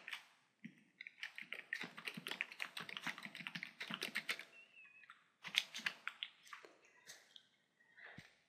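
Brisk, irregular typing on a computer keyboard, close and fairly quiet, with clusters of quick key taps broken by short pauses and a sharper final keystroke.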